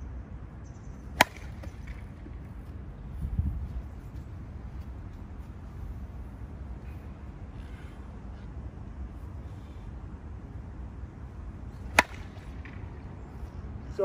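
An Anarchy Amped golf driver strikes balls off a tee outdoors: two sharp, isolated cracks about ten seconds apart over a low background rumble.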